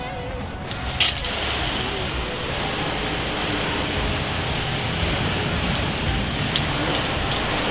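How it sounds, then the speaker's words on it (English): Water from a hose sprays steadily over a salt-crusted boat outboard cowling, a continuous hissing patter like rain on a hard surface, close and loud, with a sharp spurt at the start. "We're just going to hose this down"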